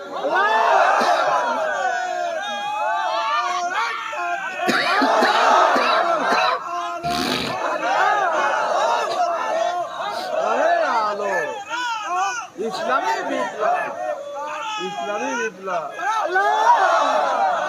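A large crowd at an Islamic waz sermon in Bangladesh roars takbir in repeated loud, ragged waves of massed voices, shouting together close and in unison with brief gaps between calls.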